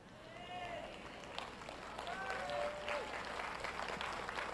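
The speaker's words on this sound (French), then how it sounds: "Vous n'applaudissez pas fort" An audience applauds at a Christian teaching event, a moderate, even patter of clapping that lasts several seconds, with a faint voice in the background.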